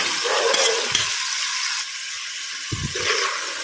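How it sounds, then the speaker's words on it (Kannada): Marinated chicken frying in ghee with onions in a pan, a steady close sizzle with a couple of scraping stirs, the hiss dipping briefly midway before picking back up. "ಈರುಳ್ಳಿ ಸ್ವಲ್ಪ ಬೇಯುವಾಗ ನಾವಿಲ್ಲಿ ಮಸಾಲೆ ಮಾಡಿಟ್ಟ ಚಿಕನನ್ನು ಇದಕ್ಕೆ ಸೇರಿಸ್ತೇವೆ"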